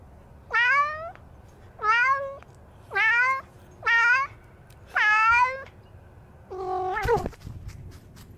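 A cat meows five times in an even, spaced rhythm, close and clear, followed by a sharper, strained yowl and a brief clatter, all heard from a TikTok video with no talking.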